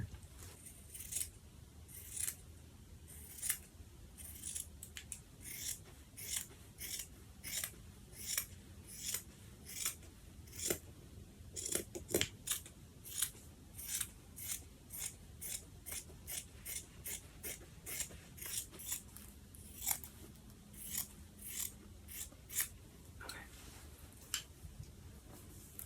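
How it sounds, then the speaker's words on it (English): Scissors snip steadily along a shirt's fabric, a long series of crisp, close, quiet cuts in a loose repeating rhythm, with no talking. "I'm just going to cut along the shirt."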